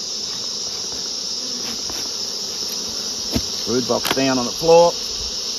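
Honey bees drone in a steady high hum around an opened beehive, with scattered clunks of hive parts being moved and someone speaking briefly near the end.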